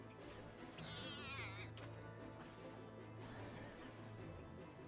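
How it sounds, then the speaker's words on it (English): A cat in the game Final Fantasy XIV gives a drawn-out, wavering meow, loud and close over a steady background hum, followed by a short knock. "It's like it's making cat noise."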